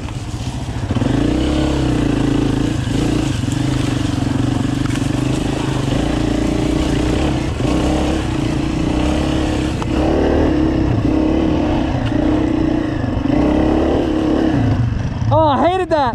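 Honda motorcycle engine droning steadily while climbing a mountain single track, a continuous loud rumble with shifting revs, and a voice talks briefly near the end.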